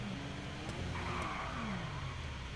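A car drives in the video game GTA, engine droning steadily with a short tire skid and faint revving, no talk over it.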